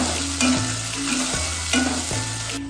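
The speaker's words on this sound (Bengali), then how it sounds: "বেটে রাখা মশলাটা দিয়ে দেবো।" Ground spice paste goes into hot oil with bay leaf and cumin and sizzles with a steady, close hiss, while a low tonal hum runs underneath and a couple of brief clatters mark the pan being worked.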